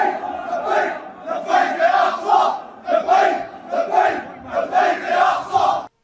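A large protest crowd in Syria chants in loud rhythmic waves, many voices rising and falling together in repeated cadenced bursts, heard from within the mass of people.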